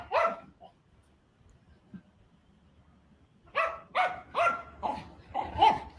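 A dog plays football with a pig, letting out a quick series of sharp, close barks near the end after a mostly quiet start.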